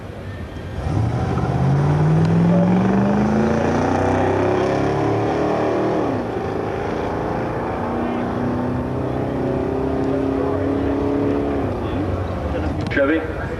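Corvette with a 5.7 litre small block Chevy V8 at the Brighton Speed Trials in 1991, its engine rising in pitch as it accelerates and then holding a loud, steady roar, with a commentator talking over it.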